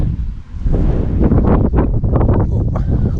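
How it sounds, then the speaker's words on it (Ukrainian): Strong wind buffets the microphone, a loud, rough rushing that gusts and swells continuously with no voices. "але все ж таки вітер дує"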